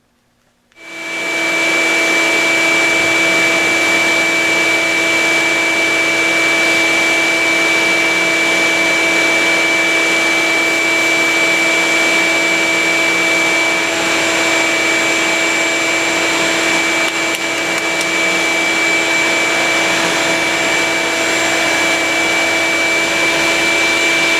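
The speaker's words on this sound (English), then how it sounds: "Well, time to sand" A wooden egg turned on a lathe is sanded up to 250 grit, giving a steady, loud, continuous whir and rubbing hiss with a constant motor hum underneath, unbroken from start to finish.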